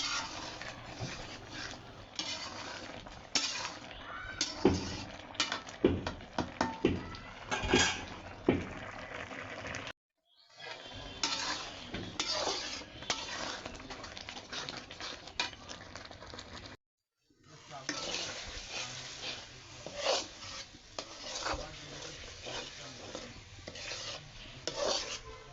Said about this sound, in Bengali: এখন আমি টমেটো চাটনিটা করে নিচ্ছি, এই জন্য টমেটোগুলো বসিয়ে দিয়েছি।